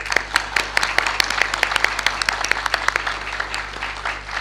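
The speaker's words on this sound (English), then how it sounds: "please give him another big round of applause" Sustained applause from a large lecture audience at Naresuan University, many hands clapping steadily and evenly throughout, with a low hum in the background.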